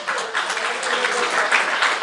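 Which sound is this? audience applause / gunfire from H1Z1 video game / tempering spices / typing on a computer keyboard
audience applause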